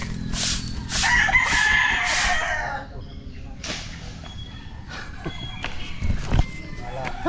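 A rooster crows loudly and close at a rural work site, one long drawn-out cock-a-doodle-doo at the start, followed by quieter rustling, footsteps and a few knocks.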